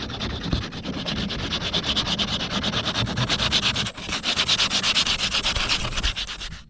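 A plastic weld on a cracked whitewater kayak is sanded by hand, giving a steady, close, rhythmic scratchy rubbing that continues with only a brief pause and no voices.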